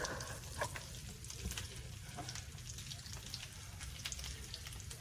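Bacon grease heating and frying in a pan as flour goes in, a quiet, constant crackle and hiss with scattered small pops throughout.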